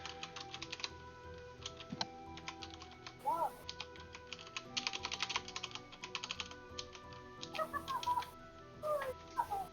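Clicky computer keyboard typing to roll dice in a Discord chat, irregular bursts of keystrokes close up, with faint voices and small background noises in between.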